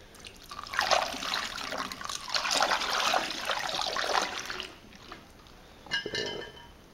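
Liquid yeast starter pours through a sanitized funnel for a homebrewed English barleywine, a close, steady splashing trickle that tapers off, followed by a few light glassy clinks and drips.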